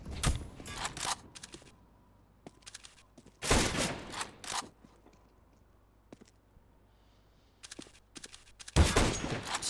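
Counter-Strike gunfire with headshots lands in sharp, loud bursts near the start, middle and end, separated by quieter stretches of faint in-game ambience and no talk.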